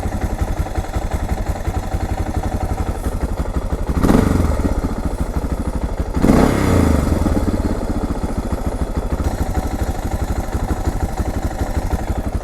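A Suzuki DR650 motorcycle engine with a low idle idles steadily with a low, even chugging throb, briefly revving louder twice before settling back to a rough idle.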